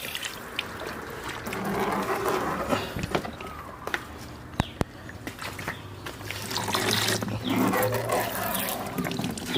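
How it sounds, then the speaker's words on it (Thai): Water trickling and splashing during a water change in a betta fish breeding tank, uneven pours and drips with occasional sharp clicks and knocks of containers, close up and moderately quiet. "เดี๋ยวผมขอเปลี่ยนน้ำก่อนนะครับ"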